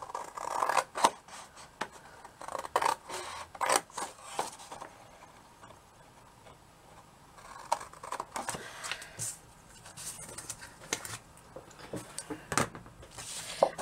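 Scissors snipping through cardstock while making a bag, a series of quiet close crisp cuts and rustles in short bursts with brief pauses between them.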